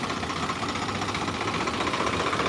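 A farm tractor with power steering idles at a tractor market, giving a steady, loud, rapidly pulsing diesel rumble that holds even from start to finish, recorded close with no voices.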